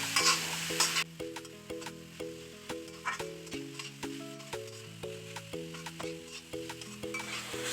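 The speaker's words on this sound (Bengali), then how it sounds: "এবার মিডিয়াম আঁচে রেখে গাজরটা আমি খুব ভালো করে ভেজে নেব" Grated carrot fries in ghee over medium heat for carrot halwa, a soft hiss and stirring scrape sitting beneath prominent background music with a steady melodic beat.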